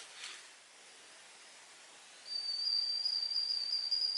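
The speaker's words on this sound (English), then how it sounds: "The sound of an old-fashioned kettle whistling." A single steady high-pitched whistle from an old-fashioned stovetop kettle starts partway through and holds on continuously as it comes to the boil, over faint background hiss.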